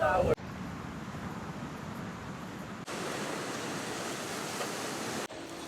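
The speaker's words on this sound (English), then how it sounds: "We'll be watching the ocean in front of us." Ocean surf at a Hawaii beach resort near the Mauna Kea, heard as a soft steady wash of breaking waves, fairly faint and continuous with a couple of abrupt cuts, beneath a person talking.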